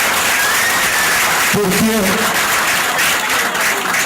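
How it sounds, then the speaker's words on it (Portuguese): Audience round of applause for an elected official, steady broadband clapping through the whole stretch, with a voice briefly speaking over it partway through. "Então eu quero pedir, pessoal, uma salva de palmas"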